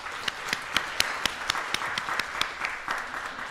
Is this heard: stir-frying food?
no